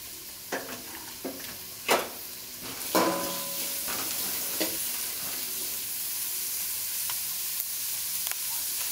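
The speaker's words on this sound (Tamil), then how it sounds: "ஸோ இது ஆனியனை சேர்த்து நல்லா நம்ம வதக்கிக்க போறோம்" Chopped onions sautéing in hot oil in a pan for egg noodles, a steady close sizzle throughout with a few sharp clinks and stirring scrapes early on.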